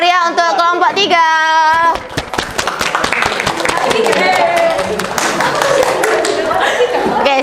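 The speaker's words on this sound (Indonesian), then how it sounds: "Beri tepuk tangan yang meriah untuk kelompok 3." A classroom of students applauds a presenting group during an environmental pollution lesson: loud, dense clapping from the whole class, with a teacher's voice just before and chatter mixed in.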